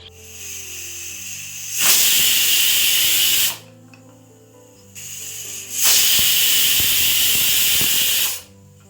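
A pressure cooker on a gas stove, cooking small-cut potatoes, lets off two loud, close bursts of hissing whistle steam, each lasting a couple of seconds, with quieter background music between them.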